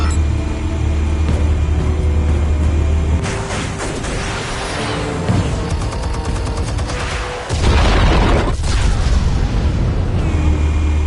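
Explosives detonate in Batman: The Telltale Series, a loud sustained burst of booming blasts with a cracking, debris-filled roar, a brief lull, then another heavy deep rumble of detonation.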